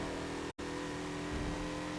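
A 2014 Mazda Lola B12/80 race car in Forza at VIR drops a gear with a brief cut in engine noise, then the steady engine drone resumes with a rising note, loud and close.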